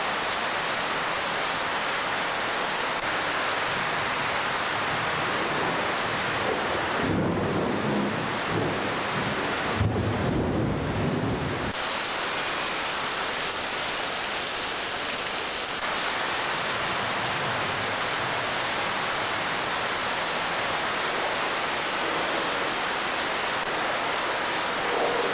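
Heavy tropical rain from a rainy-season thunderstorm beside a river in Guatemala, a steady loud roar of downpour throughout with a few brief bursts of stronger gusty noise near the middle, no voices.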